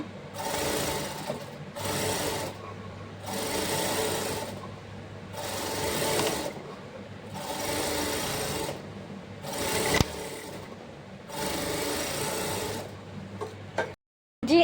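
Sewing machine stitching an elastic frock, running in steady whirring bursts of about a second each, separated by brief pauses, close and continuous, with a clunk near the end.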